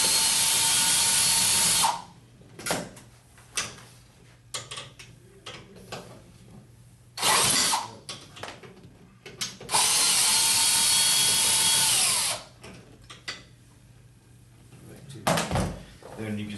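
A power drill loosening seat bolts in a 1996-2002 Chevy Express van, with loud bursts of whirring separated by quieter clanks and handling noises; someone talks between the drill runs.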